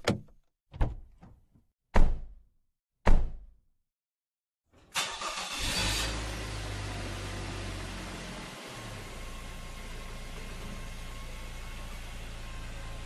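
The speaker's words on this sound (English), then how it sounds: "Then we loaded up our vehicle and drove off into the night." Four sharp car door thunks ring out one after another as a vehicle is loaded at night, followed by the engine cranking and settling into a steady idle.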